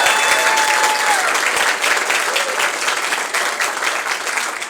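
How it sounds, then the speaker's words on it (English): Audience applause fills a hall at the Saint Paul Public Library budget address, a steady, dense clapping from a crowd that holds loud throughout and eases only slightly toward the end. "Would you give a round of applause to our library director one more time?"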